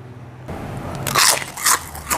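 Crisp bites into a crunchy fried cassava snack, with three or four sharp crackling crunches close to the mic in quick succession, loud against a quiet background.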